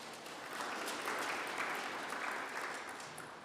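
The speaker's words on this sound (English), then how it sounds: "Can we give her a round of applause?" An audience at a petroleum policy consultation meeting in Nkurenkuru, Namibia claps steadily, a soft, distant swell of applause that rises and then gradually tapers off.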